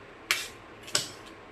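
A knife cuts vegetables crosswise on a board for soya chunks pulao, two crisp, distinct chops about half a second apart with a fainter third tap, close and quiet.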